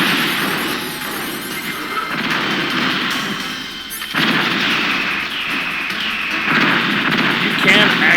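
Gunfire and explosive blasts in the PS1 game Metal Gear Solid while shooting at a satellite, loud dense rumbling bursts continuing throughout, with a brief dip midway, and a voice talking over the game sound.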